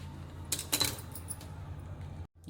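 A knife slices a citron (herale kayi) for chitranna, giving a few sharp clinks and knocks against a steady kitchen hiss before the sound cuts off abruptly, with no talking.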